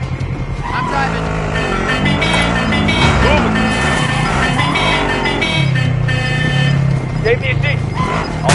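A vehicle being driven in Warzone, its engine revving and shifting steadily throughout, with a player talking over it.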